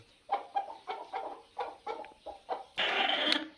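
Broody village hens sitting on eggs in brooding boxes made from oil tins give a run of about eight evenly spaced, soft clucks, followed by a brief harsher burst at the end.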